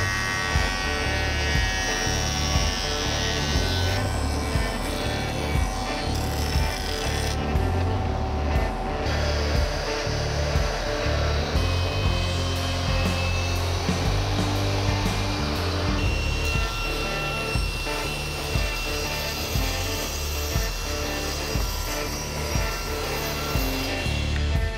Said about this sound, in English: So let's go over to the jointer.